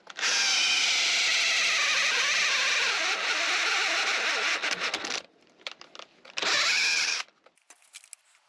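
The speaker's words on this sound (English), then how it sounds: "The idea is that I drill first and I clean everything up with the chisels" A power drill bores into wood in a long continuous whine, stops briefly, then runs again in a shorter burst before falling quiet.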